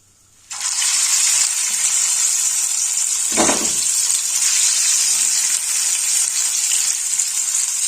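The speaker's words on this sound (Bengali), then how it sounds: "এখন আমি তেল গরম করে ফেলেছি, এবার আমি ধোকাগুলোকে ভেজে নেব" Spinach dhoka cakes drop into hot oil. A loud, bright sizzle starts suddenly and holds as a steady hiss, with one dull thump partway through and no talking.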